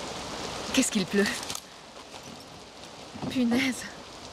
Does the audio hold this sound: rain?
yes